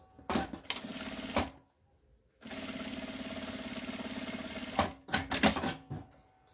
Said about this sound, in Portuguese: Vou passar uma costurinha na beirada.